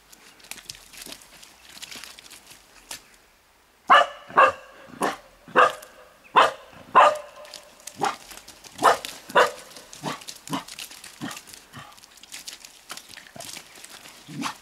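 A dog barks in a Finnish dog behaviour test, with a burst of loud, close barks in quick succession, then a run of softer barks and yips under faint background noise.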